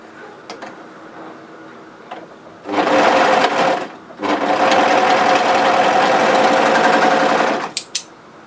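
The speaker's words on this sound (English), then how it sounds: "Take your neckband and right sides together, sew the short seam." A sewing machine stitches the short seam of a sweatshirt neckband, running loud and steady in two bursts, a brief pause between them, with faint ticks before and after.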